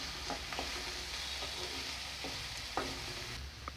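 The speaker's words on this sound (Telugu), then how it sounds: "బాగా ఫ్రై చేసుకోవాలి." Vegetables for pav bhaji sizzle steadily in a hot pan while a spoon stirs them, giving an even frying hiss with occasional soft scraping clicks, close and moderately quiet, no voices.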